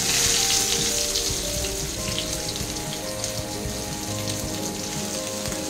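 Thin rounds of peeled snake gourd tip into a hot pan of oil, giving a steady, close sizzle and crackle that settles into an even hiss with no one talking.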